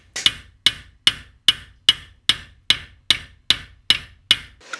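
A hammer peens the edge of a European scythe blade, about a dozen sharp metallic taps in an even, steady rhythm, each ringing briefly before the next, close and clear with no talking.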